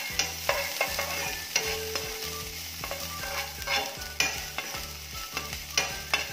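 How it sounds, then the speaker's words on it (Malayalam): Chopped ginger, garlic and green chili frying in a pan for a Kannur-style stuffed onion snack: a steady close sizzle with rhythmic stirring and scraping strokes of a spatula, no voices. "ഇഞ്ചി, വെളുത്തുള്ളി, പച്ചമുളക് ചെറുതായിട്ട് കട്ട് ചെയ്ത് ഇട്ടുകൊടുക്കാം"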